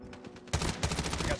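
Rapid bursts of QQ9 submachine gun fire in Call of Duty Mobile, a quieter stretch of gameplay giving way to a loud, dense run of shots that continues to the end.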